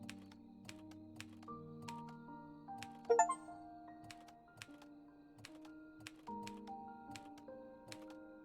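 Typewriter keys clack one by one at an unhurried pace in the game Undusted Letters, with a brief brighter ding and rattle partway through, close and clean over a soft sustained musical background.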